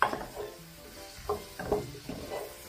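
Pepper paste and tomato paste stirred in a pan, with soft sizzling under several separate scraping strokes of a utensil across the pan, close and quiet, with no talking.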